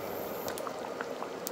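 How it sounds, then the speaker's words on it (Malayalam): Kottayam-style chicken curry with thick first-press coconut milk boils steadily in a pot, a dense, continuous bubbling hiss with soft pops scattered throughout, close and even in level, with no voices. "എന്നിട്ട് ഇനി ഇതൊന്ന് തിളപ്പിക്കണം."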